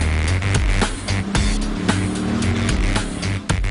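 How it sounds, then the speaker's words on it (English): Ronn Motor Scorpion, a 2008 hydrogen internal-combustion sports car, roars loudly around a race track, its engine note rising and falling steadily with brief tire squeals as it passes close by. "this Scorpion tears up the track with a hydrogen internal combustion system"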